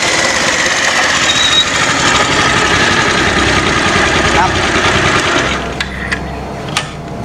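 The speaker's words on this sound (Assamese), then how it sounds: "বাইকৰ মাত শুনিছো সেইজনী আহিছে" A motorbike engine running at a steady idle, a loud even drone that eases slightly near the end, with voices heard alongside it.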